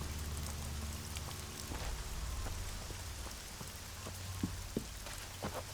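Steady rain falling in the video game Elex, a dense, continuous hiss of drops with scattered sharper drips near the end, no talking.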